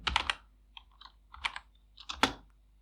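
Python code being typed on a computer keyboard: three clustered bursts of crisp, close key clicks with brief pauses between them, in an otherwise quiet room with no speech.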